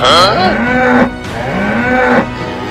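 A bull lets out two long, loud moos in close succession, each a drawn-out bellow with rising and falling pitch, heard close by with no talk over it.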